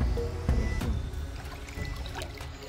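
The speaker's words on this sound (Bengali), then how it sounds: "দেখ সাইলেন্সে জলের সাউন্ডটা শোনা যাচ্ছে" Stream water trickles and burbles steadily at the Panijhora picnic spot, a soft, close, continuous flow with a few small splashes and no voices.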